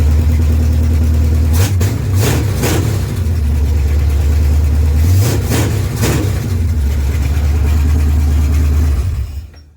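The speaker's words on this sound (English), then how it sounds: "we did get this motor to finally idle on its own. It sounds pretty smooth." A big Chrysler 318 V8 engine idles loudly and steadily close by with a low rumble, blipped twice by brief revs before cutting off at the end.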